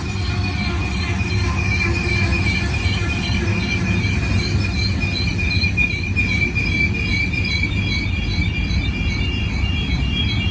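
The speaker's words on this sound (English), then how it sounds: "This is an outstanding train." Freight train of covered hoppers, some marked Borax, rolls steadily past close by, with continuous loud wheel rumble and high metallic squealing throughout.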